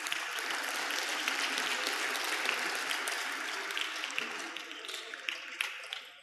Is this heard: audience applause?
yes